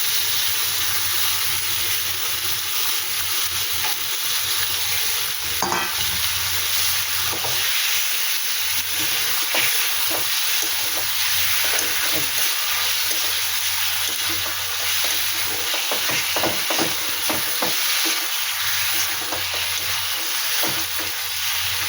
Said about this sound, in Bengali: হলুদ আর লবণ দিয়ে আর সর্ষের তেল দিয়ে নেড়ে মাছগুলো মেখে রেখেছিলাম সেগুলো আমি দিয়ে দিলাম কড়ায়